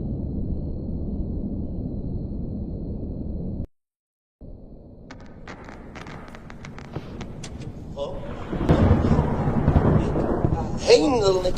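A thunderstorm rumbles in The Joy of Creation Story Mode, low rolling thunder that cuts out briefly and returns, then builds louder with crackling bursts and rising noise.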